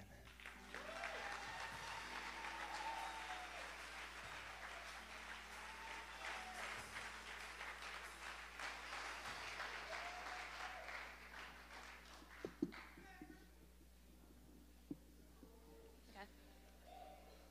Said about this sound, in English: Give God the best applause you can.